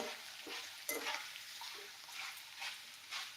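Maize papdi pieces frying in hot oil for namkeen chivda hiss and crackle softly and continuously, with small bursts of sizzle as more pieces go in.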